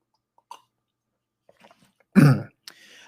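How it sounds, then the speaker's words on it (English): A single short, gruff throat clearing close up, preceded by faint mouth noises and followed by a soft breathy sound. "Why I'm like having to clear my throat, I don't know."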